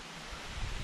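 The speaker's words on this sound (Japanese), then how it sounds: "あとは川が流れてて、" A river flows beside a campsite with a wooden deck, heard as a steady, soft broadband wash of moving water with a slight low rumble, no voices.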